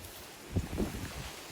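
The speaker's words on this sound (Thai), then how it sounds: "โอ้ยลมนะคะจะลมนิดหน่อยเด้อค่ะเพื่อน" Wind buffets a microphone outdoors beside a fruiting Danish cherry tree, producing a low, steady rumble with a couple of brief gusty thumps.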